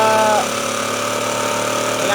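A generator set engine runs on wood gas made from firewood, giving a steady, loud mechanical drone with a constant hum throughout and a brief whine fading early on.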